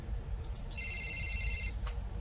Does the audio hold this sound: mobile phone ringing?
yes